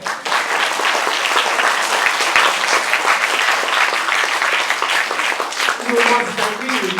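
A mathematics festival audience breaks into a sustained, loud round of applause filling the hall, with voices mixed in and some talk near the end.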